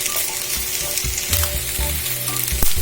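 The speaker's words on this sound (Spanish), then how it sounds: "Entonces vamos a agregar la cebolla y los dientes de ajo. Y nos vamos a esperar a asarlo un poquito." Onion and garlic cloves roasting in a hot pan give a continuous close sizzle and crackle, broken by several clattering stirs and scrapes of a utensil, with a sharper knock near the end.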